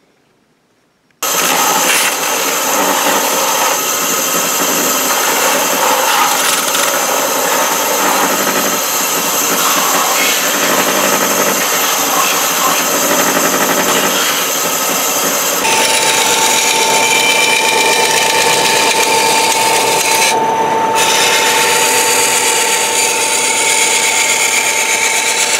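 A Dremel rotary tool trims parts for a Star Wars B-Wing helmet prop, whining loud and continuously at close range for over twenty seconds, its pitch shifting slightly as it works, with no speech.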